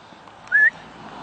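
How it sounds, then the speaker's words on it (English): A single short, clear falconer's whistle note calling a trained bird of prey, sharp and close, rising slightly, against quiet outdoor background. "so we use the whistle"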